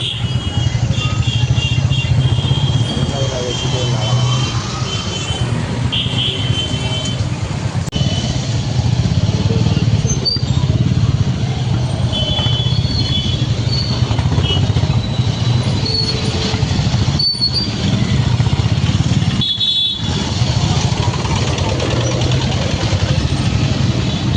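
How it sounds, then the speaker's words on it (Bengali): Motorcycles and cars idle and rev in a dense traffic jam at a railway level crossing whose gate has just lifted, a loud, continuous, close engine drone with passing vehicles and faint voices mixed in. "সামনে পিছনে প্রচুর জ্যাম, গেট উঠেছে সবে।"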